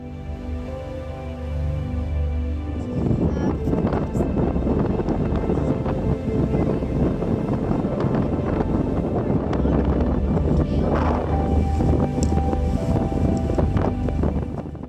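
Strong, unrelenting wind buffets the microphone on an exposed northern tip of Newfoundland, a steady loud roar that rises after a quieter start and persists throughout with no talking.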